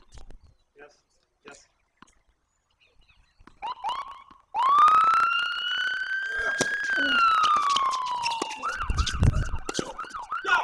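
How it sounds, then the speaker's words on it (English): A police siren rises and wails steadily outdoors at a pro tennis event in Rancho Santa Fe, loud and close as it passes, then shifts to a yelping pattern, with scattered voices and a commentator talking. "police coming after me. I know that siren coming over in Rancho Santa Fe."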